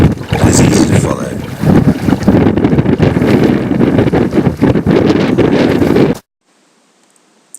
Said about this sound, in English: So this is fixed seat rowing